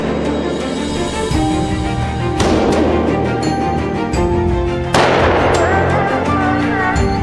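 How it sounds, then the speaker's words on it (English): Loud gunshots crack out among misty mountains in the Victoria Highlands, two sharp blasts standing out, each followed by a long rolling echo over a steady rumbling background. "The sound of gunfire echoes among the misty mountains of the Victoria Highlands"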